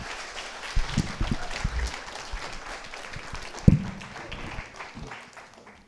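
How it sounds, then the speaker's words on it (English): Audience applause at a film screening Q&A, a brief scattered clapping from a modest crowd in a hall, rising with a couple of louder claps and then tapering off. "let's first give Chris a big round of applause"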